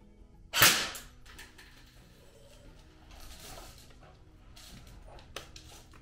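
Double Bell M16A4 airsoft rifle fires a single sharp, loud shot, followed by a few fainter clicks and rustles in outdoor woodland ambience.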